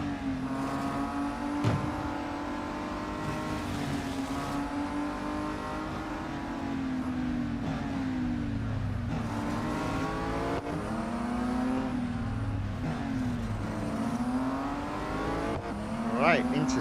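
Race cars in the mobile game Real Racing 3, engines revving in rising and falling sweeps as gears shift, a constant motor drone with occasional tire noise, fairly soft and continuous.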